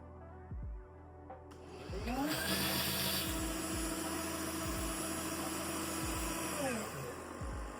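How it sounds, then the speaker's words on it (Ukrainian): A MOVA M10 wet vacuum cleaner running hot-water self-cleaning whirs up to a loud, steady drone, with rhythmic thumping pulses underneath and a shift in pitch as it runs. "Start quick self-cleaning with hot water."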